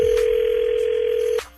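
A steady telephone dial tone plays loud and close as someone picks up a line to place a call. It holds one unbroken pitch for well over a second, then cuts off abruptly and leaves faint line hiss.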